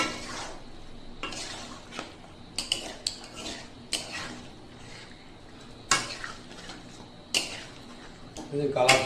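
Meat and spices stirred in a cooking pot over a low flame, with a utensil scraping and clinking against the metal in irregular close strokes and a faint sizzle underneath.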